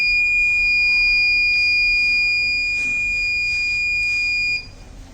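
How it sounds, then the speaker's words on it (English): A loud, continuous high-pitched electronic buzzer on an Arduino smart-helmet alcohol detector sounds steadily for several seconds, then cuts off abruptly, leaving a quiet hum. "alcohol detected, buzzer gets on"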